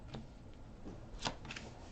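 Tarot cards being cut and shuffled for a reading, heard as a few soft, close riffling and tapping bursts against a quiet room, with no talking.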